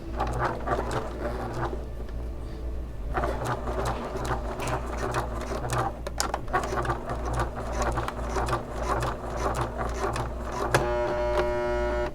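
A sewing machine stitches a bag strap, a steady rapid mechanical rattle running almost without pause with a few brief slowdowns, close and clear with no talking.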